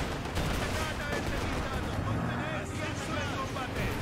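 Gunfire from German units in the Company of Heroes 2 strategy video game, sustained and dense with rapid overlapping shots and rumbling battle noise throughout, while someone talks over it.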